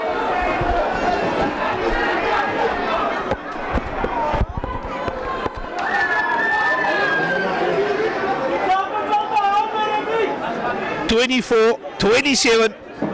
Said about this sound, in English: The fans screaming, encouraging the SK Walmers side.